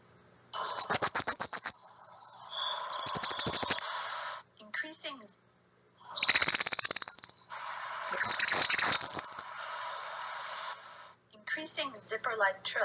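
Northern parula warbler song: rising, buzzy, zipper-like trills with an abrupt ending, repeated several times with short gaps. Bright and fairly close, with a voice speaking at points between the songs.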